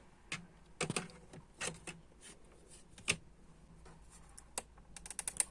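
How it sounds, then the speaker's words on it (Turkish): A brush sweeping dirt out of an HP 530 laptop keyboard, giving scattered short scratchy bursts and light clicks at an irregular pace, close and quiet with no talking. "Fırçayla temizliğini yaparız."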